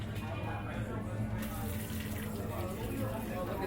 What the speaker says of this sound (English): I'm just going to pour it right here on the table.